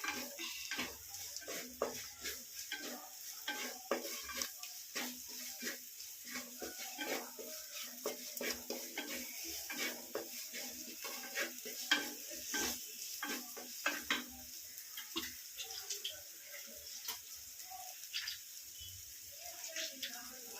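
Pounded cumin and dried red chili paste sautéing in a pan for homemade crab rasam, a soft sizzle with frequent scraping and clinking of a utensil stirring against the pan, fairly quiet and continuous throughout.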